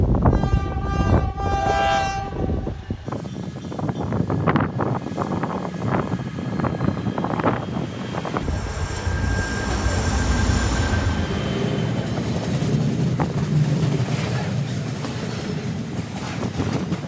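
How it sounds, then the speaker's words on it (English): A train passes near the tracks by a beach in a ghost town, opening with loud horn blasts, then a sustained rumble and clatter of rail cars rolling by close. "As you can see, there's a train going by"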